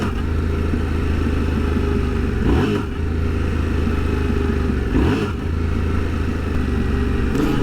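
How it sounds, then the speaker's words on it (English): A motorcycle lurches forward during a clutch-up wheelie attempt, its engine droning loud and steady with two brief surges as the clutch is released, heard up close on the road. "the bike is kind of lurching forwards, but the front wheel is staying firmly planted on the road for now"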